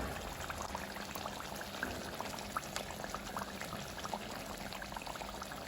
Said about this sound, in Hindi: तो हम डालेंगे फ्रेश क्रीम।